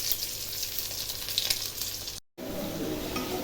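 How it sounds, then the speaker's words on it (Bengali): Meat and potatoes sauté in a pan with a dense, steady sizzle and faint scraping, cut by a brief silent gap before the frying resumes loudly. "এই যে মাংস রান্না করতেছি"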